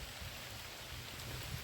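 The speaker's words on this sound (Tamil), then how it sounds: "பரிசு மழை பெய்யுது பயங்கரமா." Heavy rain falls steadily as a dense, even hiss that stays at the same level throughout, with no voices.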